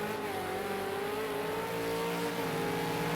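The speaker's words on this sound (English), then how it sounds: "You can hear a car coming out." A V8 Supercar in a racing video game leaves the pit lane at Silverstone, its engine giving a steady, fairly faint drone that holds a continuous tone throughout.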